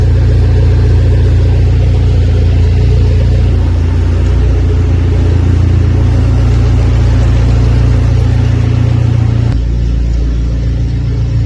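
A car's engine runs loudly and steadily after an axle seal replacement, a close, continuous low rumble with slight variations in pitch, and no talking over it.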